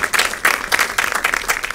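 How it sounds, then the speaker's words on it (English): An audience claps and applauds at a quiz event honouring a First Lady, with a steady, moderately loud patter of many hands and no talk. "Put your hands together for them."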